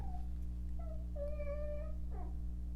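A cat meowing nearby in a few drawn-out, rising and falling calls over a constant low mechanical hum, with no talking.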